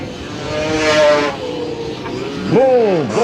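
Racing motorbike engines climb a hill during a 1984 King of the Hunter race, a buzzing mid-distance whine that rises and swoops in pitch as bikes pass, under an excited commentator's voice.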